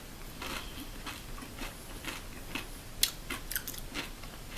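Fried fish and chips being chewed up close, a faint, steady run of crunchy bites and mastication with a sharper crackle partway through.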